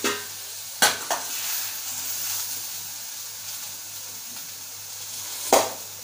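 Red pumpkin curry being stirred in a pan, Malvani style, with a steady soft sizzle of frying and a few sharp spoon scrapes against the pan, close and alone.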